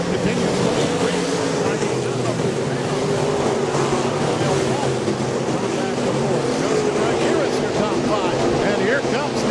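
Stock cars racing together on the Rapid Speedway track in an Iron Man stock car event, a continuous dense engine roar heard from a distance without letup, with a commentator talking over it.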